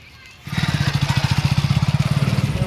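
A motorcycle engine starts up suddenly and settles into a steady, rapid putter with close, regular pulses, running alone for about two seconds.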